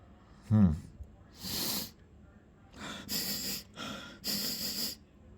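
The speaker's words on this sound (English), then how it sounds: "Just doing a little sniff test." Several close, sharp nasal sniffs taken in a sniff test, breathy bursts in an uneven rhythm after a brief low vocal sound, with no clear speech.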